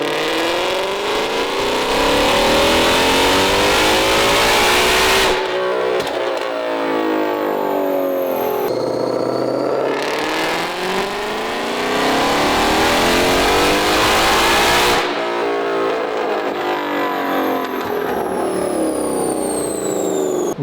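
A Ford Mustang GT500 strapped to a Dynojet dynamometer revs hard in long sweeping pulls, its engine note climbing and falling in loud, sustained runs with brief drops to idle between them, very close and dominant.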